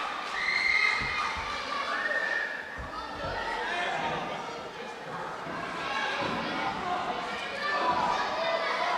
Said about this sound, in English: And this crowd loves it.